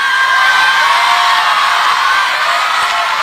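A crowd shouts and cheers loudly and continuously for a young boy dancing, a sustained wall of whoops and yells with no pauses.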